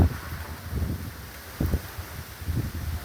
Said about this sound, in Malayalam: ആ തെങ്ങോലകളൊക്കെ നല്ല രീതിയിൽ ആടുന്ന കണ്ടില്ലേ വലിയ ശക്തമായ കാറ്റില്